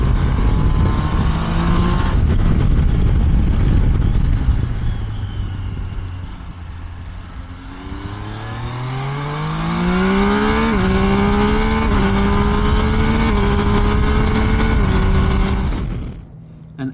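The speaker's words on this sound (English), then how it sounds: "Proper cool noise from that triple engine." Triumph Tiger Sport 800 triple engine heard from the saddle, droning at speed, easing off, then climbing through the revs with audible gear changes from the quick shifter, loud and close, with wind noise and no talk.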